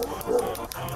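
Dogs at an animal shelter giving short barks and yips over a few quick bursts within about a second, moderately loud with a busy background.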